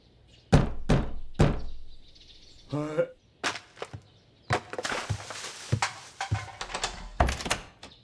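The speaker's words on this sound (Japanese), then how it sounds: "私は寝不足の頭を抱え215室のドアを叩いた" Knocking on the door of room 215: three sharp, close knocks in quick succession, followed by a scatter of further thumps and rustling movement with no speech.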